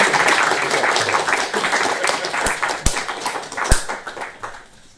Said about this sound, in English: Can I clap?